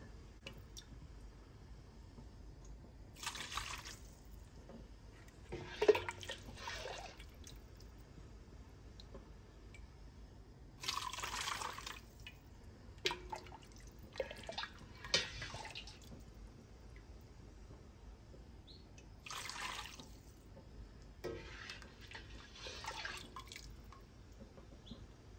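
Turkey broth strained through a strainer produces quiet, intermittent bursts of pouring and trickling liquid separated by near-silence, with faint drips and small clinks in between.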